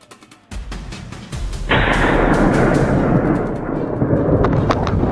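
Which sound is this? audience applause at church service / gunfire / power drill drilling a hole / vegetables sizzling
gunfire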